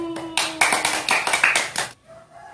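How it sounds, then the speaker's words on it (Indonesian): A few people in a classroom clap for a student, about a dozen quick, close, crisp claps in a short burst. The claps stop abruptly, leaving quiet room tone. "Tepuk tangan untuk Sani."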